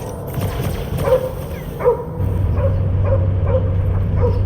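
Cosmo the space dog in the video game Guardians of the Galaxy gives a series of short yips and barks, about six evenly spaced calls over a low rumbling background.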